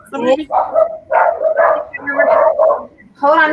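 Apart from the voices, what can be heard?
dog barking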